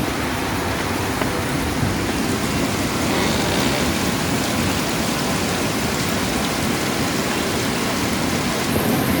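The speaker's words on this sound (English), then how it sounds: "it's about 6:30 and it's been raining on and off like this" Steady morning rain falls on the Khao Sok jungle, a dense, even hiss of drops on leaves and surfaces that continues without pause.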